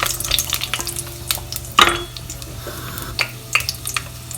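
Whole red chilies and black peppercorns fry in hot oil for spinach kadhi, a light crackling sizzle broken by stirring scrapes and a sharp clink of a spoon against the pan near the middle.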